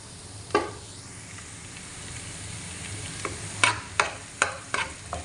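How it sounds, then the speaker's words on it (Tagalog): Butter melts in a pan with garlic, giving a low steady sizzle close by, interrupted by several sharp clinks and scrapes of a utensil toward the end. "Tunawin lang po natin yung butter"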